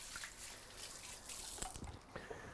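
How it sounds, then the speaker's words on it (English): Hands rinsed under a running kitchen tap, a soft, brief splash and trickle of water with a few light drips, faint and close. "I'm just going to wash my hands again, or rinse them off"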